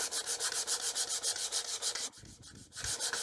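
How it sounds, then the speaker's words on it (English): A wooden mallet face is sanded with 120 grit sandpaper, making a close, rhythmic rubbing rasp of steady back-and-forth strokes. A short pause breaks the run before the strokes resume. "On the face, I'm just going to come back with some 120 grit sandpaper."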